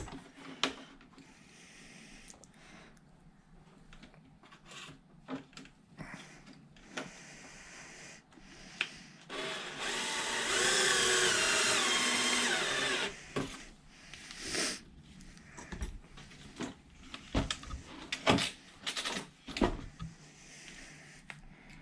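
A power screwdriver drives the two body screws on a Losi LMT RC truck: a close, steady whirring burst lasting about three seconds, surrounded by scattered clicks and handling knocks.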